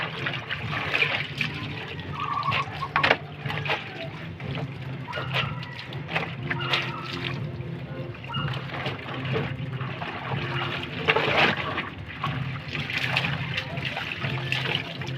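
Clothes are washed by hand in water, with continuous splashing, sloshing and trickling as fabric is rubbed and moved, and a voice talks faintly in the background.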